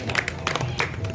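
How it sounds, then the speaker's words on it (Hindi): Brief burst of crowd clapping at a children's festival during a Ganesh festival event, a quick dense patter of hands from a gathered audience, close and moderately loud. "जोरदार तालियों के साथ"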